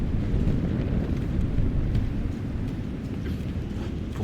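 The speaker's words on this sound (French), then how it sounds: "Beaucoup de vent." Wind rushes steadily through the landscape of the video game Shadow of the Tomb Raider, a dense low roar with gusty rumble that holds without pause, loud and even, with no voice over it.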